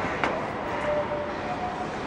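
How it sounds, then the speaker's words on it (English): Bangkok BTS SkyTrain pulling into a station, a steady broad rumble of train and platform noise with faint high squeal tones, no speech over it. "The train's actually here."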